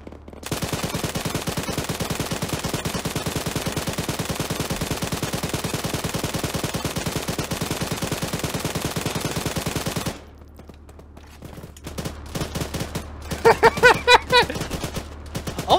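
Sustained rapid machine-gun fire in the video game Arma 3, loud and continuous for about ten seconds, then scattered separate shots and bursts against quieter background.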